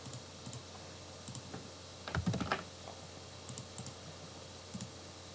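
Computer keyboard clicks from typing during a calculus lesson, quiet scattered taps with one denser burst of rapid keystrokes, heard alone.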